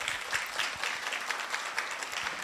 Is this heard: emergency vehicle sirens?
no